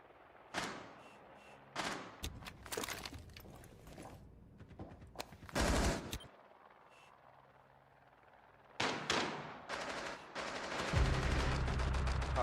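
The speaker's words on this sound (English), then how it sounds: "Oh yeah, he is shooting." Gunfire in Rainbow Six Siege, heard as scattered bursts of rapid shots and single cracks, some close and loud, others muffled, broken by a short lull and then a heavy closing volley.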